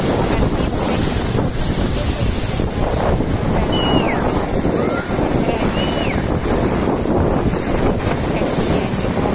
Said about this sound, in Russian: Порывами бывают очень большие волны.